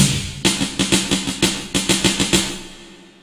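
Keyboard notes struck in a triplet rhythm, a dozen crisp evenly grouped attacks ringing close and clear, then a fading decay with no talking.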